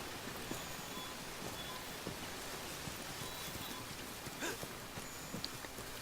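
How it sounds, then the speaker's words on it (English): Steady rain falls across the Ancient Forest in the Monster Hunter World video game, a soft, even hiss broken by faint scattered taps and drips, with no one talking. "I really just love the ancient forest when it's all glossy and rainy like this"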